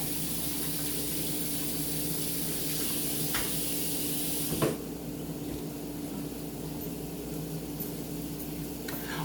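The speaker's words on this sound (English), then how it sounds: "So I'm going to wash my hands real quick." A tap runs steadily at close range for hand washing, then cuts off abruptly midway, leaving a quieter room hum with a small knock at the end.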